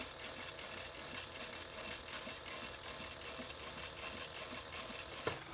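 Domestic sewing machine running steadily while top stitching the bottom band of a fabric handbag, a continuous fast whirring patter of the needle, fairly quiet and uninterrupted, with a small click near the end.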